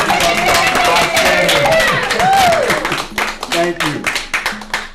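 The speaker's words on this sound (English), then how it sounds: "Can we have a round of applause?" An audience at a Kwanzaa arts celebration applauding, a dense wash of clapping with a person speaking over it before the applause thins out.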